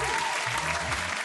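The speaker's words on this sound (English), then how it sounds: "Give another round of applause for this event." An audience applauds at a sports scholarship and awards ceremony, a brief, steady burst of clapping heard fairly faintly.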